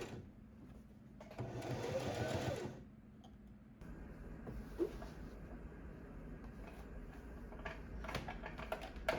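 A sewing machine stitches fabric onto a skirt for a dress made from thrifted materials, running in a few close bursts, the longest about a second long, with quieter handling and machine noise between runs.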